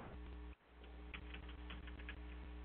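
Someone types on a computer keyboard while searching for an account number, producing a quick, irregular run of light keystroke clicks over a steady electrical hum.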